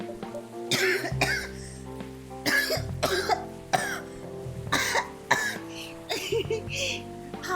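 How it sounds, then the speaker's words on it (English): Repeated coughing fits from a person choking on water, about eight loud close bursts in quick clusters over a quiet room background, with throat clearing mixed in. "I'm coughing"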